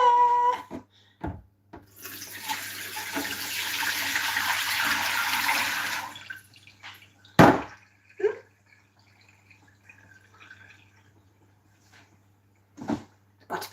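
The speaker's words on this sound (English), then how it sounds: "now we're doing the ecstatically exciting job called Let's Clean Monty's Water Dish" Tap water runs steadily for about four seconds while a pet's water dish is rinsed at a sink, followed by clunks, knocks and dripping; a person talks at moments.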